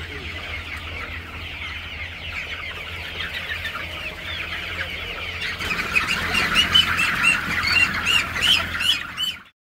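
Tiger-breed chickens squawk and cluck steadily at close range, a busy flock of overlapping calls that grows louder and denser in the second half before cutting off abruptly.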